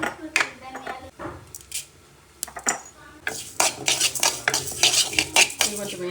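Cumin, coriander and sesame seeds are stirred in a home-kitchen pan, with sharp metal spoon scrapes and clinks at first, then a busier stretch of rattling and clattering. No one speaks.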